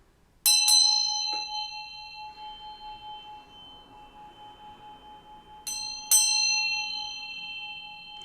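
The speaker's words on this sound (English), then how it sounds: "I'm going to ring this bell to bring in some good vibes" A small bell is rung by hand: a sharp double strike rings out with a long, shimmering sustain, then another pair of strikes sounds near the end, clear and close in a quiet room.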